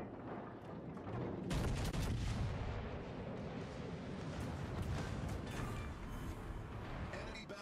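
Battleship main guns firing in the naval video game World of Warships Legends: a loud salvo of heavy booms followed by rumbling, crackling gunfire and explosions that continue for several seconds.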